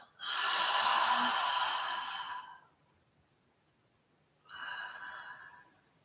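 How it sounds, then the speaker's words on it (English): During yoga breathing, a person exhales through the mouth, a long breathy rush of air close by, then after a pause a second, shorter and softer breath. "Inhale. Exhale through the mouth."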